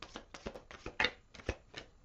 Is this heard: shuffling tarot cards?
yes